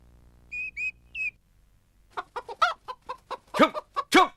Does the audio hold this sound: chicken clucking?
yes